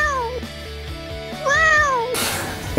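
A cat meows loudly right next to the camera, giving two drawn-out, wavering cries. A burst of scratching or rustling noise follows the second meow.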